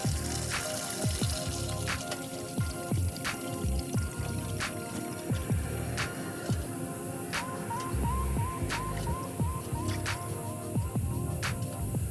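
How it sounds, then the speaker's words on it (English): Engine oil draining from the drain plug of a Subaru Crosstrek into a pan, a steady liquid trickle with repeated drips and small splashes close by. "Place the drain pan under. And slowly remove the drain plug."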